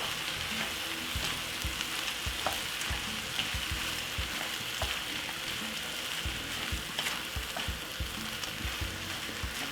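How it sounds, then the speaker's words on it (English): Rice with a small amount of green peas being stir-fried in a pan for a Chinese-style fried rice, giving a steady, close sizzle broken by frequent soft scraping and tossing clicks from the stirring, with no talking. "And also a little bit of green peas. Not too much. Give it a lovely stir."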